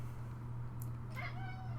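A domestic cat gives a single drawn-out meow, fairly close, over a low steady hum, with a brief higher squeak just before it.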